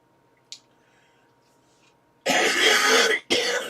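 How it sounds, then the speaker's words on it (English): A person with a lingering illness coughs twice in close succession, loud and near, after a short quiet lead-in with a faint click. "I'm still coughing, so I ask you to bear with me."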